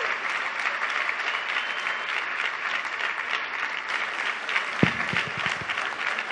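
A rowdy crowd at a town hall with President Obama applauds loudly and continuously, a dense, even wash of clapping that holds throughout.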